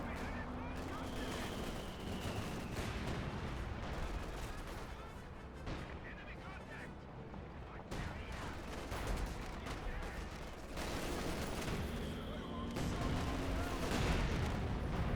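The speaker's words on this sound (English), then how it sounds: "We got some sort of artillery being brought in there, probably officer artillery, British officer artillery." Artillery barrage and battlefield gunfire in Company of Heroes 2, British officer artillery shelling, heard as a steady dense roar of blasts and shots with voices talking over it throughout.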